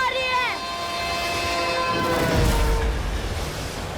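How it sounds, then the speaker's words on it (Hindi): A train on rails comes toward the listener in a TV drama scene: a loud, falling multi-tone horn blast is followed by a swelling low rumble and clatter as it draws near. "ट्रेन अपनी तरफ आ रही है।"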